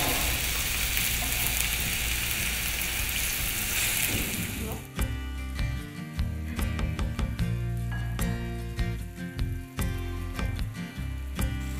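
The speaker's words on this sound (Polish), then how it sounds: "Wylewamy tłuszcz i ponownie smażymy pierś od strony mięsa." Steady, loud sizzling of goose breast frying meat-side down in a hot pan, with crackling pops and scraping clatters as the pan is handled.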